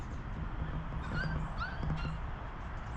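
A mother dog with her puppies whimpers and yips in a few short, high cries over a steady low background rumble outdoors, fairly near and moderately loud, with no one talking.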